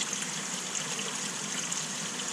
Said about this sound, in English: This is the beginning section of the sump where all the 6 pumps drain.